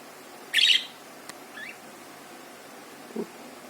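Small sparrows give one clear, sharp chirp close by, then a fainter call and a low soft note, with quiet pauses between and no voices.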